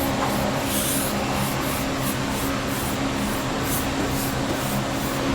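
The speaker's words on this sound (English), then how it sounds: "I'm just going to brush it all over everything." Brush strokes spreading a coating over the body of a 1952 Chevy, a steady close scratchy swishing with regular rhythmic pulses under constant background noise, no talking.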